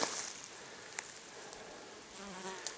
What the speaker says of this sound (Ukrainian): Тут працюють наші бджоли